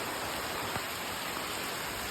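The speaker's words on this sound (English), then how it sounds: "I wasn't expecting to get caught in the rain like this" Tropical rain pours down on the island of Borneo as a dense, even hiss of falling water that holds steady throughout, with no voices.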